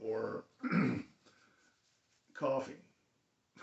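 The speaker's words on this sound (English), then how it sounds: "coughing." A man clears his throat and coughs close by in a quiet room, with two rough bursts separated by a short, near-silent pause.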